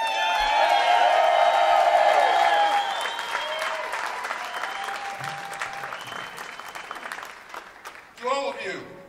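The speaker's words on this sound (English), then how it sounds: "please give a warm round of applause to Brother Jim Monroe" Loud, sustained applause from a crowd at a Minnesota union rally with some cheering, fading gradually over several seconds before a brief burst of sound at the end.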